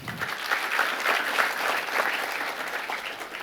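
A church congregation applauds together, a steady wash of clapping at moderate volume that carries on evenly without a break, no voices over it.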